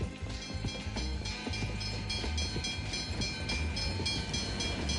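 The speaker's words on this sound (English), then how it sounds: "I almost got run over by the train." A train rumbles past in a game world, a steady loud roar of wheels and carriages with rhythmic clacking running the whole time and no voices over it.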